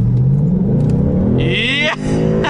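A 2019 Ford Mustang GT Premium with the 5.0 V8 is floored from inside the cabin, its engine note rising loudly and steadily as the revs climb, then a brief dip near the end.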